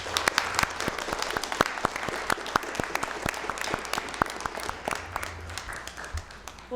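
Applause for a group of teachers at a school board meeting: a small crowd clapping, with sharp individual claps standing out in an irregular, sustained patter over a faint room hum.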